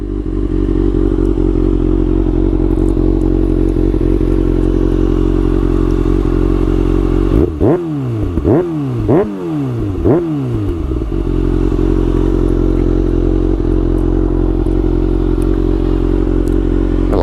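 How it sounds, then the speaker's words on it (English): A 2022 Kawasaki Ninja ZX-6R KRT with a flashed ECU idles loud and close, then its exhaust barks through a few quick throttle blips with crackles before settling back to a steady drone. "See what this exhaust sounds like."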